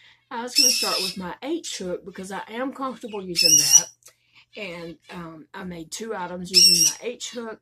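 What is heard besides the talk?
birds calling in the background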